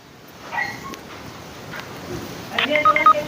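A few short electronic beeps sound, like keypad tones on a phone, amid faint background noise and a brief voice.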